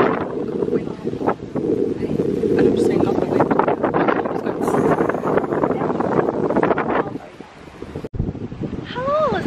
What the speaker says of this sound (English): Very windy beach